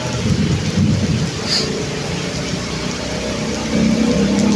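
Heavy rain pours down with rolling thunder while someone walks outside without an umbrella, a loud continuous downpour with low rumbles swelling and fading.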